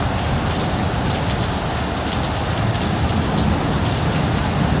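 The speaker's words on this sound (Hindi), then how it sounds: "जो शदीद किस्म की बारिश हो रही थी" Heavy rain pours down in a dense, loud, unbroken hiss of drops beating on surfaces, steady from start to finish with no voices.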